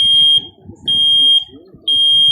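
Piercing high-pitched pulses from a household smoke alarm sound in a steady cycle, trading off with a recorded voice speaking between beeps.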